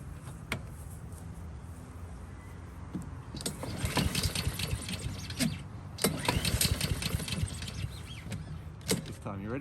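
A petrol lawn mower engine found at a dump sputters into life after a quiet stretch, revving and running roughly with uneven bursts and surges under intermittent nearby talk.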